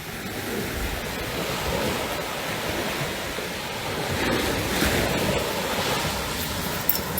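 Sea waves at Sandy Lane Bay wash in a continuous broad rush of surf, swelling slightly midway, with wind buffeting the microphone and no voices.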